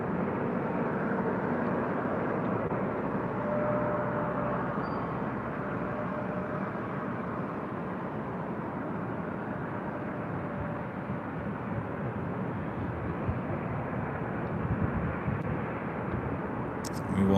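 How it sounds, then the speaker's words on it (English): A Southwest airliner bound for Dallas Love Field rolls in on runway 24 left at LAX, its jet roar a steady, loud wash of broadband noise lasting throughout without pause. "It's the Southwest flight heading to Dallas Love Field."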